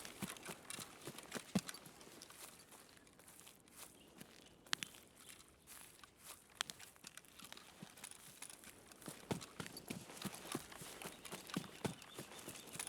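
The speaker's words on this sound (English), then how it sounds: "I just heard footsteps up above me." Footsteps in the shooter game Escape from Tarkov, a series of soft, irregular crunching steps over a quiet background, faint and scattered without any voice.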